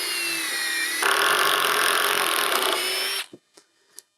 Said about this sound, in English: I'm gonna go ahead and run a pre-drill